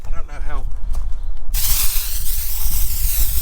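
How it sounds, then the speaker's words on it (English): A hand-pumped, pressurised snow foam sprayer mists foam onto a 2007 Subaru Forester STi SG9 during a wash, heard as a steady, close, broadband hiss that starts abruptly partway through and continues to the end. "You compress it by pumping the handle on the top, and it gives you a nice spray."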